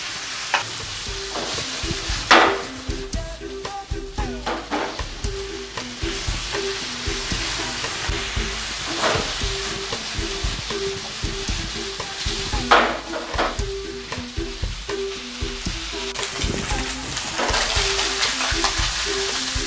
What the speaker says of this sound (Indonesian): baru kita masukkan ayamnya, kita tumis sampai matang